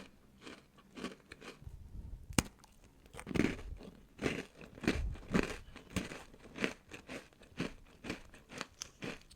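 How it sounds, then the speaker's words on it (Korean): A crunchy mocha pastry from a bakery is bitten and chewed close up, giving a run of sharp, crisp crunches in an irregular rhythm, with quieter gaps between bites. "반쪽 먹어볼게요."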